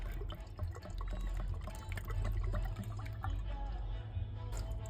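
Motor oil glugs steadily from a jug into the filler of a Ram pickup engine during an oil change, a continuous close pouring gurgle with a few small clinks and no speech.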